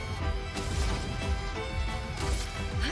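An ice shattering attack in the video game Clair Obscur: Expedition 33 lands as dense, loud crashing and smashing bursts, repeated over a thick layer of battle effects and music.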